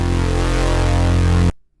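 A single sustained synth note built from sine, sawtooth and swarm oscillators drones loud and buzzing, holding steady for about a second and a half before stopping abruptly into silence.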